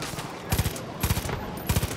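Short bursts of gunfire go off in Far Cry 5, three quick clusters of shots spaced apart, moderately loud over a low background with no talking.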